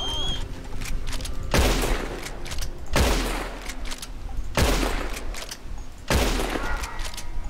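Heavy gunfire in Red Dead Redemption comes as four or five loud booming volleys about 1.5 seconds apart, each a sharp blast with a rumbling tail, with faint game sounds between them.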